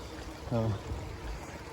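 Dunham Creek flows beneath a trail bridge along the Appalachian Trail, giving a soft, steady rushing wash; a brief voice sounds once partway through.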